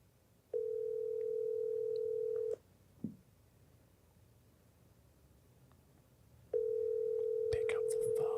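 An outgoing telephone call rings while waiting for someone to pick up, two long steady ringback tones separated by a pause with a small click, the second tone joined by faint rustling noise near the end.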